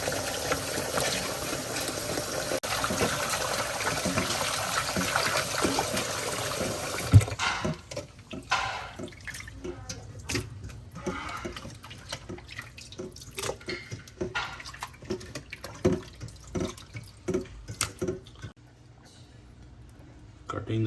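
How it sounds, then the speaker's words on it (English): Squid being washed with lemon juice and cold water in a kitchen sink, steady running tap water at first, then irregular splashes, drips and handling sounds as the squid is rinsed. "Washing the squid with lemon juice and cold water."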